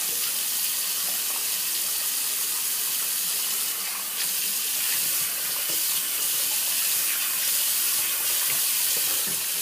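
Tap water runs steadily from a faucet into a sink as a razor is rinsed, a continuous close hiss with slight surges in flow and no talking.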